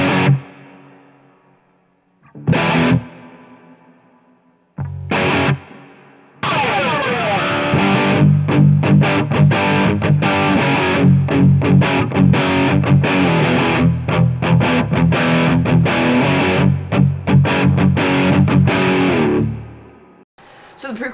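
Distorted electric guitar plays the whole first verse of a song with chugging palm mutes. A few short stabs come first, then a sustained loud riff runs throughout and cuts off near the end.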